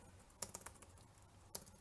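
Keys clatter on a computer keyboard during a command-line hacking session, with a short burst of several clicks followed by a lone keystroke a second later, close and fairly quiet.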